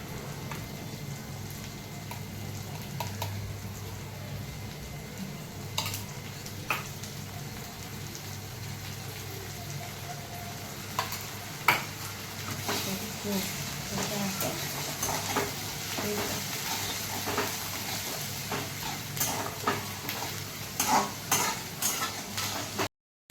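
Coconut masala chutney with onion and tomato sautéing in a pan, giving a steady frying sizzle throughout. Intermittent stirring scrapes and taps sit on top, building into quicker clatter near the end.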